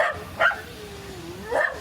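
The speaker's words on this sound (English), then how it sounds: "And the dogs are there saying hi to Nico, who's there." Dogs greet someone beside an 88 ft wooden sailing boat hauled out of the river, giving two short barks or yips a second apart over quiet background.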